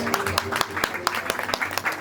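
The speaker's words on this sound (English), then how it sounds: "Feel free to clap your hands." Scattered audience clapping at a Puszta horse show in Kalocsa, Hungary, brief uneven claps mixed with a voice speaking over them.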